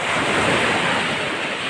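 Strong sea waves break on a shore in a steady, loud roar of surf, with wind buffeting the microphone and no voices.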